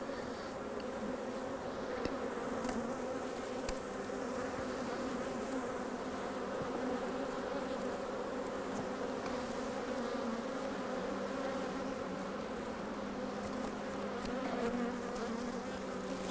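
Honeybees in a colony during a hive inspection, a steady, close buzzing drone that holds evenly throughout with no break.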